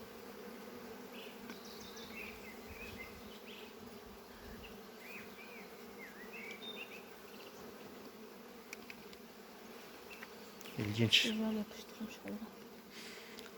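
Steady honeybee buzzing at a hive in April fills the scene, a dense continuous hum with occasional closer bees passing; a voice briefly speaks near the end.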